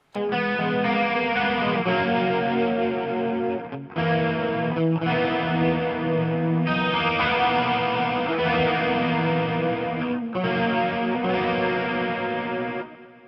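A shimmering electric guitar played through chorus then delay effects plays sustained, chorused chords with echoing repeats, loud and continuous with a few brief breaks between phrases.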